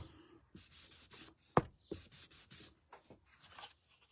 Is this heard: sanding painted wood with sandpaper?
yes